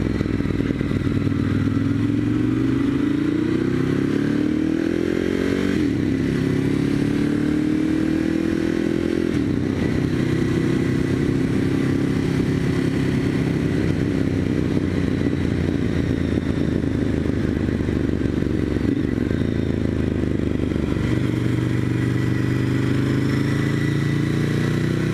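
A Ducati Monster 1100 Evo being ridden, its engine droning loud and steady throughout with rising and falling revs as it shifts through gears, wind rush and road noise mixed in, no voices.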